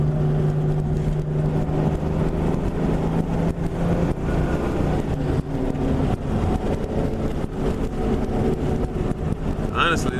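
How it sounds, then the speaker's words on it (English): A cammed 2000 Ford Mustang GT with FBO upgrades rumbles steadily on back roads, its deep exhaust drone running throughout at close range. "Just let y'all hear this exhaust."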